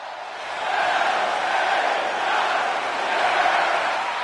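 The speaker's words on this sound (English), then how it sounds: "the roar of the crowd tells you all you need to know" A wrestling arena crowd at a Money in the Bank event roars for a wrestler's entrance, a dense, loud swell of cheering that builds within the first second and holds steady, with no distinct voices above it.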